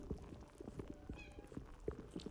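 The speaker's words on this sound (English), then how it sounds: "cat sounded so real that I thought there was one in my room" A cat meows inside the video game Slime Rancher 2, a short, realistic meow standing out over a steady bed of game music and background sound.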